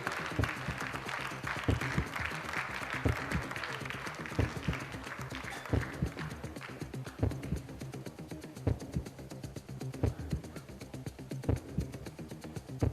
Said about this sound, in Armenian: այս ոգևորությունը ծափահարենք, ոգևորենք գեղեցկուհիներին